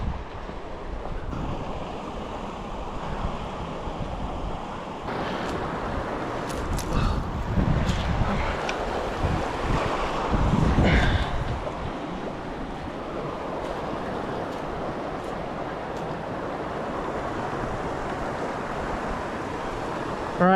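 A boat runs through rapids on the Suwannee River, rushing water and wind buffeting the microphone in a steady roar that swells in the middle, with no talk.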